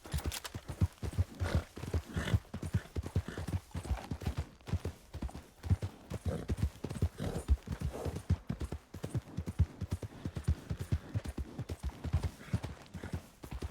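Steady horse hooves clip-clop in a multiplayer role-play video game, a continuous even walking rhythm close by and fairly loud, with no talk over it.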